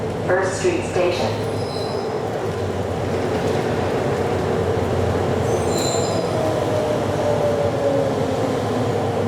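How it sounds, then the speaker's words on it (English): A Miami Metromover automated train rolls into a station with a steady rumble and a thin, drawn-out wheel squeal on the rails, heard close up from inside the car. "Please hold on. The train is approaching."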